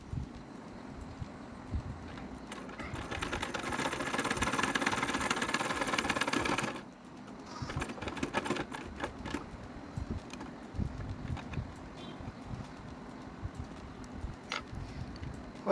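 Sewing machine stitching in a home, a steady mechanical whirring and rapid ticking rising for several seconds, then stopping, followed by quieter intermittent clicks and handling.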